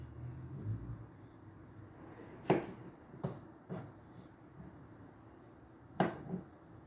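A papaya being cut up with a knife on a board, a few separate sharp chopping thuds spaced irregularly over a quiet background.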